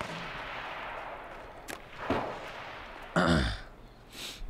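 Distant gunfire in the battle royale game H1Z1: King of the Kill, a few scattered far-off shots with one louder burst near the middle, no talking.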